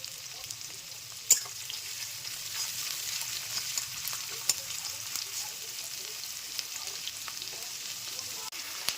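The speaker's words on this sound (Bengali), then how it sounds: "পেঁয়াজটা বেশি ভাজবো না" A large chopped onion is fried lightly in oil with whole spices for a potato curry, giving a faint, even sizzle with scattered small pops and crackles throughout.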